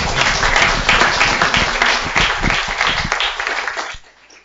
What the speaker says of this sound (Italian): Un applauso al professor De Muro